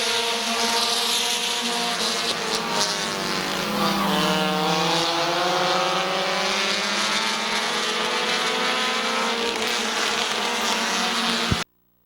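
Race cars on the track at Midvale Speedway scream past in a loud, continuous engine whine, pitch sweeping up and down as the cars pass close by, ending with a sudden cut to silence.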